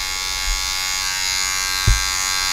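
A steady, high-pitched electric buzzing from hair clippers running close by during a taper fade haircut, with a couple of soft low bumps as they move through hair.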